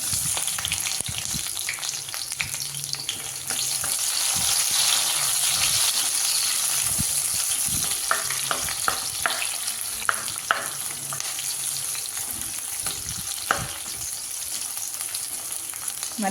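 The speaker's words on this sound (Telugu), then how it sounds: "మరి రోస్ట్గా వేయించుకోకుండా 1 నిమిషం అలా వేయించుకొని" Thickly cut onion pieces fry in hot oil with cloves and cinnamon for a paneer curry, a steady close sizzle broken by scraping stirs and clinks of a spoon against the pan, with no voices.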